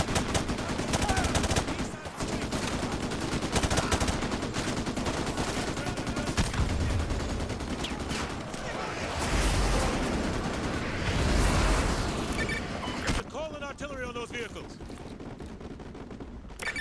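Sustained gunfire and heavy weapon bursts in the Modern Warfare 2 Campaign Remastered video game, a loud continuous barrage of shots and impacts that thins out near the end.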